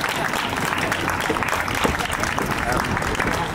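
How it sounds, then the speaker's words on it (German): A crowd claps steadily in sustained applause for a winner at the Großer Preis der Stadt Trier 2023 race while a voice talks over it in German. "Einen großen Applaus"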